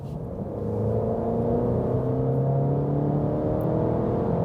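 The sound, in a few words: Alfa Romeo Giulia 2023 accelerating from 60 to 100 km/h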